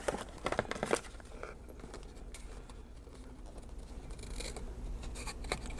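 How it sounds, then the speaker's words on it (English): Scissors snip through paper being trimmed for a composition notebook cover, a few quick crisp cuts at the start followed by quiet rustling handling, close and fairly faint. "I think I'm just going to leave that and cut this piece off."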